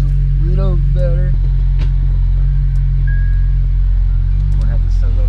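Idling Acura TSX with a failing clutch throw-out bearing, a loud steady low rumble throughout, with a few short voice-like tones over it early on and faint clicks.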